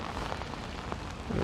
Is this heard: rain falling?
yes